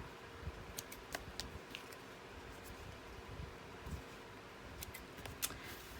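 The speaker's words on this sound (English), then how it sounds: "I'm just going to trim all those off now" Scissors trimming loose hanging threads from sewn 12-inch scrapbook paper, a series of faint, soft snips spaced irregularly over low background hiss.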